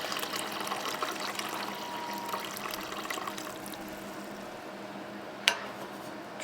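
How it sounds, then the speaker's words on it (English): Water pours into a pot over corned beef with pickling spice and whiskey, a soft continuous trickling and filling sound at moderate distance, ending with a single sharp knock. "A little bit more water to get it kind of submerged."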